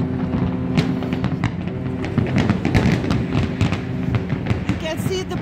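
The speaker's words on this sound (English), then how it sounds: "beautiful people, stunning fireworks." Fireworks burst over a harbour where cruise boats are moored, a steady series of sharp cracks and pops running under continuous crowd noise and nearby voices.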